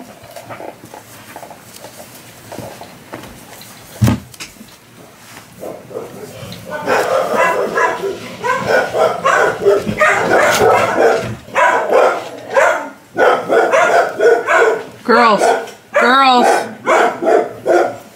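Household dogs bark repeatedly at a front door, loud and close, with yips and whimpers mixed in and a person's voice speaking over the commotion.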